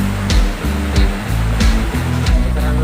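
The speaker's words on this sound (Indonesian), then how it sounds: "di puncak dari air terjun" Waterfall heard from its top at a scenic tourist spot in Silangkitang, Labuhanbatu Selatan, giving a loud, continuous rushing roar with heavy low rumble and periodic surges, no voices.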